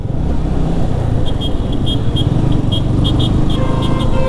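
A Yamaha R15 V3 motorcycle, BS4 version, roars off with a steady, loud engine drone and rising rev tones throughout, no voices over it.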